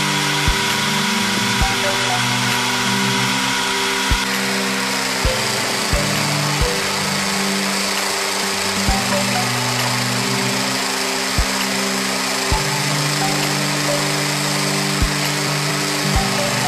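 A power drill drives a homemade pipe rust-stripping machine, running steadily with a droning whine, punctuated by sharp regular clicks or knocks as rust and old paint are scraped from metal pipe, machine noise alone with no talking.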